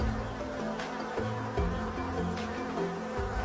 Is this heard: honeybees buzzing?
yes